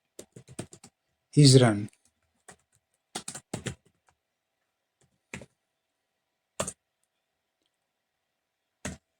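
Computer keyboard keys are tapped in scattered short bursts and single clicks with silent gaps between them, and a voice speaks briefly.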